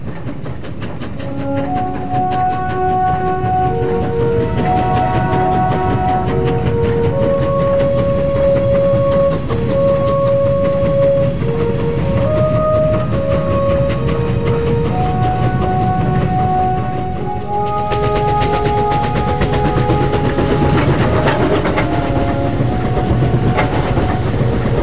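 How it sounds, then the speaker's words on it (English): Freight train hauled by massive QJ steam locomotives climbing the steep Jinpang Pass, a constant heavy rumble with clattering wheels and long drawn whistle-like tones sounding over it throughout. "most freight trains require at least 2 massive QJ steam locomotives to make it up to the summit"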